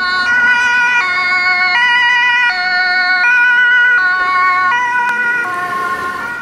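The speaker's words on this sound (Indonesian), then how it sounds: "ada mobil ambulan." A toy ambulance's two-tone electronic siren alternates steadily and loudly, high then low, with a thin, toy-like tone close to the listener.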